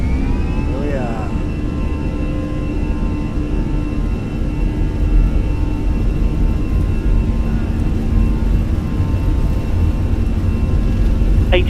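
Airliner jet engines roaring steadily through a takeoff roll in a simulated Fenix A320, a loud continuous rumble with a rising whine, with a voice talking over it briefly.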